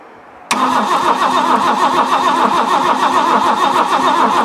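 A 1973 MK1 Ford Capri bursts into life on a cold first start, the engine catching abruptly after a quiet moment and then running loud, close and steady with a rough, pulsing idle.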